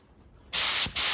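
A cheap HVLP spray gun hooked to an air hose releases two loud, steady bursts of hissing air, close up, with a brief pause between them.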